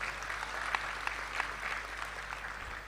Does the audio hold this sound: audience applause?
yes